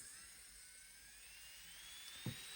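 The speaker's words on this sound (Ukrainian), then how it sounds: "Включаємо фрезер." Electric nail drill for removing gel polish, running with a steady high-pitched whine that slowly rises in pitch, close and fairly quiet, with a brief low thump near the end and no talking.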